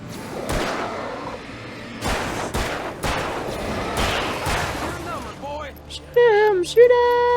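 Repeated gunshots ring out in the Alan Wake video game, loud, close bursts with sharp thuds in a rapid volley, then a shouted voice and game audio take over near the end.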